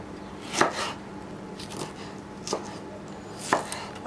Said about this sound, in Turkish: Onun için şöyle çok ince doğramıyorum